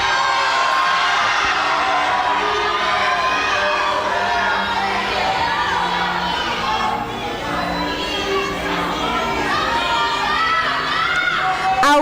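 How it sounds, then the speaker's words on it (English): A crowd at a male pageant coronation screams and cheers loudly and continuously, with high children's and adults' shouts and whoops filling the hall. "So let's scream out the name of who you think is your winner."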